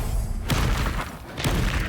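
A Confringo fire-blast spell in the video game Hogwarts Legacy goes off as a sharp burst, then a muffled booming impact a second later, set over a constant low rumble of game music and effects.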